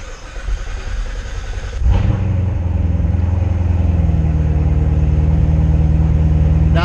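A Corvette Z06 engine cranks briefly, then catches and settles into a loud, steady idle with a deep even rumble, close by and with no talking.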